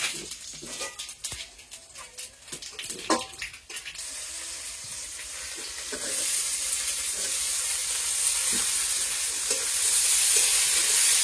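Whole cardamom, bay leaf and cumin seeds sizzle in hot oil for a chicken curry, with close utensil stirring and clatter at first, then a steady frying hiss that grows louder and fuller toward the end.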